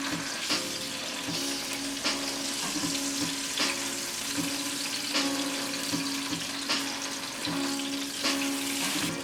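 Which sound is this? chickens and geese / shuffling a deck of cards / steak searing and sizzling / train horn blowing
steak searing and sizzling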